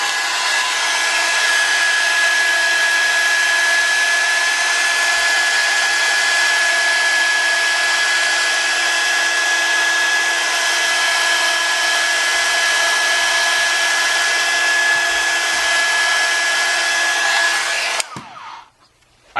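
A Radio Shack heat gun blowing hot air onto a cracked iPad Air screen during repair, a loud, steady whooshing roar with a faint whine that holds constant, then cuts off abruptly near the end.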